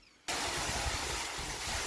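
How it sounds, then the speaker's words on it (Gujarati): After a brief quiet moment, a farm water pump motor abruptly switches on and keeps running with a steady, loud broadband whir and low rumble. "અહીંયા મોટર ચાલુ કરવાની અહીંયા મોટર ચાલુ થાય"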